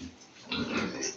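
Pigs at a farm give a burst of low grunting and oinking that swells halfway through and stays close and fairly loud, with some muffled human voice mixed in.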